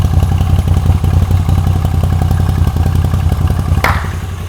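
A Moto Guzzi V85TT motorcycle on its stock factory exhaust idles loud and close, with a steady deep rumbling beat, a brief rising rev near the end, and no talking.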